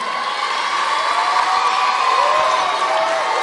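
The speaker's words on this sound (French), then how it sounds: "on applaudit très très fort" A school storytelling-day crowd of children and adults cheers and applauds loudly and continuously, with whoops and shouts rising over the dense clapping throughout.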